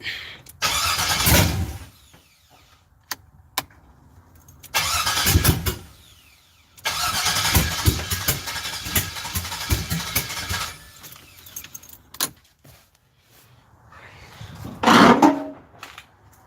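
An LS-swapped car engine cranks in several separate bursts with pauses between them, then catches briefly and runs rough before another loud rev near the end, all close and without talk.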